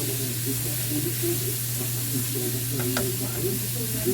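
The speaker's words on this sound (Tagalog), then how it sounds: "At haluin lamang natin ito ng dahan-dahan." Pork and Baguio beans adobo sizzles steadily in a pan while being stirred slowly, a close, constant frying hiss with soft scraping strokes and a low hum beneath.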